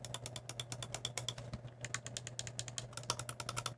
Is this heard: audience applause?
no